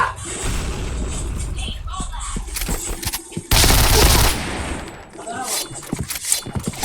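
Gunfire in a multiplayer shooter video game, sounding as scattered shots and a dense burst midway, with footsteps and game sounds mixed under the action.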